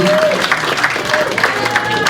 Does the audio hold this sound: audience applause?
yes